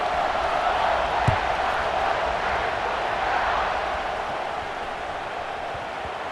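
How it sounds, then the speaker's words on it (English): Stadium crowd buzzing in EA Sports College Football 26, a steady, dense roar of many voices heard from a distance, staying even throughout with one brief thump. "this crowd is buzzing after that last score"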